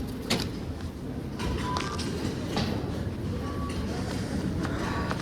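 A subway train pulling into a Toronto station: a steady low rumble and roar of the approaching train fills the platform, with faint high squeals and tones above it.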